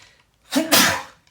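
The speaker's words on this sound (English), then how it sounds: "Sneeze." A single close sneeze, a short sharp burst with a brief breathy intake before it, during a relaxed Minecraft gaming session.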